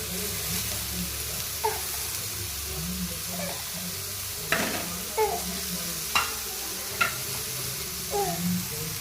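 Raw banana slices fry in a shallow pan of oil with a steady soft sizzle, broken by several sharp clinks and scrapes as they are stirred and turned.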